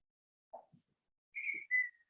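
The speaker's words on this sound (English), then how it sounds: "I like to whistle when it gets intense." A person whistles a few short, clear notes alone in a quiet room: brief low chirps, then two longer sustained tones near the end.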